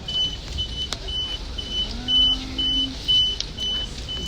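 Inside a moving bus in Macao, a steady low vehicle rumble runs under faint cabin noises, with short, high electronic beeps repeating every second or so.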